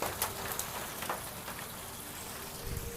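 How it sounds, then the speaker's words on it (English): Hail falling during a tornado storm, a dense patter of small impacts with occasional sharper cracks on nearby surfaces, steady and close. "Well, it's hail."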